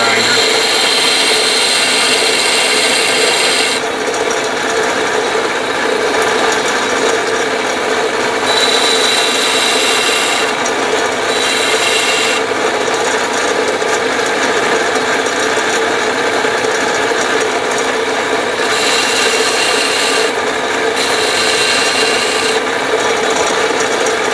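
Slow-speed sanding of a butcher knife tip during a bushcraft knife rebuild, giving a steady, continuous abrasive rasp that runs loud and unbroken throughout, with no talk over it.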